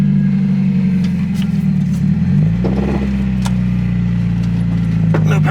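A Mazda Miata engine humming steadily from inside the car while driving, with one clear shift in pitch partway through and light rattles and road noise over the drone.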